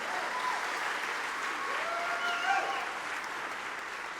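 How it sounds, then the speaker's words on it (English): Audience applause for pianist Braden Scherer at a high school spring concert, a steady wash of many hands clapping that holds across the whole stretch and tapers slightly near the end. "Another round of applause for Braden Scherer on the piano."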